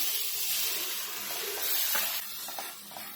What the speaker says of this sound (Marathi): करपते म्हणून थोडं पाणी टाकूया